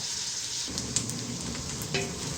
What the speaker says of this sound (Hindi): ये मेरे पास देसी घी है और इसमें प्याज डाल के फ्राई करते हैं।